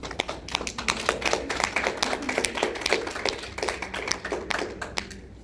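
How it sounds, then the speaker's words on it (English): Graduation audience applauding, a close, lively burst of many hands clapping with distinct individual claps, continuing steadily before thinning out at the end. "please take a minute and applaud those around you that supported you."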